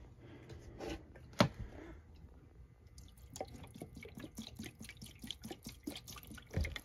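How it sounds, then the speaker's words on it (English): Water dribbling and dripping from an air-conditioning unit's clogged drain, with irregular close splashes and trickles that grow busier after a few seconds, plus a couple of sharper bumps; no one talks. "I just poured water in here. Didn't really carry it away, kind of just leaked out."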